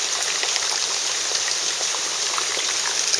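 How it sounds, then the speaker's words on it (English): Rainwater drips and trickles from the eaves of a Shinto shrine during morning rain, a steady close wash of splashing water with faint individual drops scattered through it. "Water dripping out of the eaves here."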